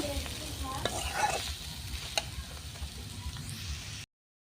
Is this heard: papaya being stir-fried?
yes